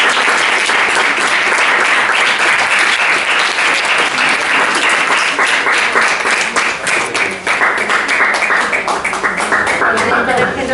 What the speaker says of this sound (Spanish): darle un aplauso